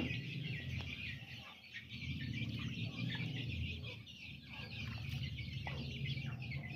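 Chickens clucking steadily at close range in a backyard pet enclosure, with a continuous layered chorus of short clucks and calls and no talk over them.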